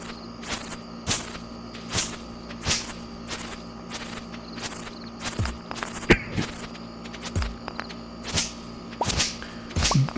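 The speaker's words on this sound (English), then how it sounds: "You could hear him in the background breaking stone." A character breaks stone in Stardew Valley: sharp, evenly spaced cracks and knocks repeat about once a second for ten seconds over a steady game hum and soft background music.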